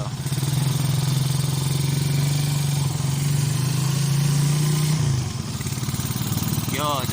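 A motorcycle engine fitted with a PWK carburetor runs loudly and steadily at close range, revving with a rough low rumble that drops near the end.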